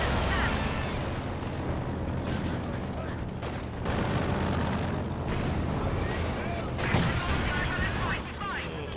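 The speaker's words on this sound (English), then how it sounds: "Blowing up a couple mines." Mines blowing up in Company of Heroes 2, heard as a dense, continuous wash of battlefield blasts and gunfire with several sharper booms, loud throughout with talk running underneath.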